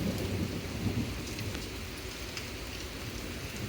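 A summer thunderstorm in drought-stricken country, with steady rain hissing on surfaces and low rolling rumbles of thunder throughout, no voices.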